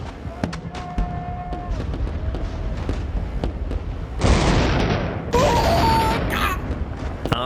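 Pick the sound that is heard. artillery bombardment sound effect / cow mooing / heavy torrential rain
artillery bombardment sound effect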